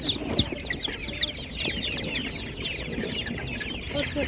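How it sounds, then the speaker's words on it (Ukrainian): Czech Dominant laying hens cluck continuously and fairly close at a Ukrainian market, a busy overlapping chorus of short calls over faint background bustle. "ось такі м'ясонесучка, чеський домінант"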